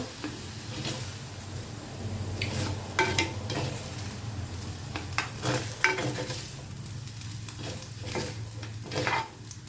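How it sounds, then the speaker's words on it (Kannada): Potatoes fry in a pan with a continuous near sizzle, joined by intermittent clicks and stirring scrapes, no voices. "ಬಟಾಟೆ ಫ್ರೈ ಆಯಿತು ಇವಾಗ ಬಟಾಟೆ ತೆಗೆಯುವ ಈ ತರ ಫ್ರೈ ಇದು"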